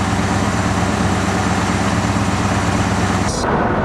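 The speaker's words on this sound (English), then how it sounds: "There's it idling." A 1982 Jeep Wagoneer with a new catalytic converter idles steadily, giving off a loud, continuous low rumble close to the listener. Near the end the sound briefly shifts and drops as something changes.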